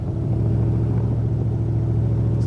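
A 1965 Shelby Cobra tribute car pulls hard in third gear, its engine a steady, loud, deep rumble that sounds close and continuous throughout with no voices over it.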